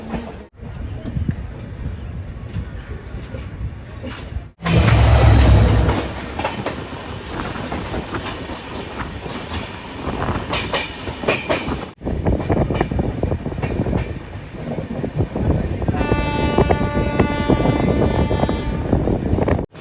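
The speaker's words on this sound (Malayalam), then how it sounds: "ഈ ട്രെയിനാണെങ്കിൽ നല്ല സ്പീഡിലുമാണ് പോവുക." Loud rumbling and rattling of the Jan Shatabdi Express running at speed, heard from inside near the door, with rhythmic wheel clatter, wind rush and a high metallic squeal near the end.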